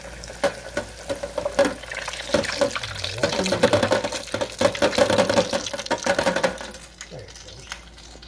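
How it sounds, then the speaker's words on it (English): Grits cakes dropped into a deep fryer set up a loud, close, bubbling crackle that builds and holds steady for several seconds before tapering off near the end, with some faint background sound and no clear talking. "drop these in the deep fryer"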